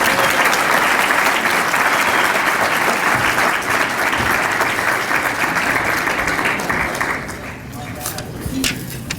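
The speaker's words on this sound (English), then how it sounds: "How about another round of applause for Skylene and our students?" An audience at a school symposium claps, a dense and sustained burst of applause that holds steady and then tapers off near the end.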